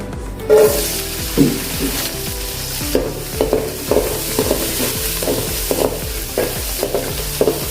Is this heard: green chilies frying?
yes